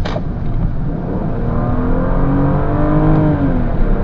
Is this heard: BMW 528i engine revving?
yes